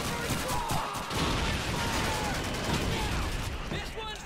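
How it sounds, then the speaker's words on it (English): Dense gunfire fills a Call of Duty 2 D-Day battle at a silo, crackling bursts and rifle shots layered over a constant loud din of combat, with a voice talking over parts of it. "Let me shoot that."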